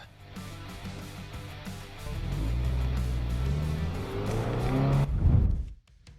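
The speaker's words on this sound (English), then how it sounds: "they lay on the horn and hit the gas, blowing right through their pathetic trap" A car revs hard and accelerates through a fake roadblock at night, its engine rising to a loud, sustained roar close by, then cutting off abruptly near the end; no clear horn stands out.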